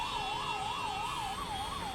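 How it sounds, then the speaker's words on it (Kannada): An ambulance siren wails in a steady, smooth up-and-down sweep, loud and continuous over the drone of a traffic jam below a closed flyover in Peenya, with no talk. "ಟ್ರಾಫಿಕ್ನಲ್ಲಿ ಆಂಬ್ಯುಲೆನ್ಸ್ ಸಿಲುಕಿರೋದು."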